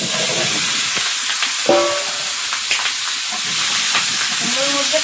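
Pumpkin fries in hot oil with panch phoron five-spice and bay leaf, giving a loud, steady, close sizzle and hiss throughout, with a few brief voice fragments rising over it.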